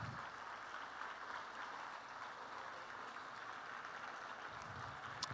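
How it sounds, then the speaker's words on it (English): Applause from a large crowd at a 2022 high school graduation ceremony in an indoor hall, a steady wash of many hands clapping that stays fairly even and moderately distant for the whole stretch. "give a round of applause for everyone else that's in this room that got you here tonight."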